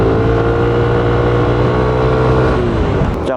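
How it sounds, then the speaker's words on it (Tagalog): A Yamaha NMAX Tech Max scooter, version 3, is ridden along the mountain road at Marilaque in Tanay, Rizal. Its engine drones loud and steady, with wind rush, and the pitch shifts slightly near the end. "Gamit pala natin motor ngayon mga par NMAX TechMax."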